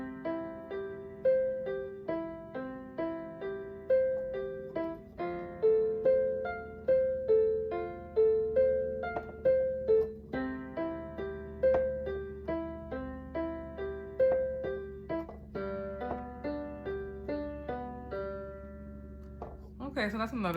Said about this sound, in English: just playing an arpeggio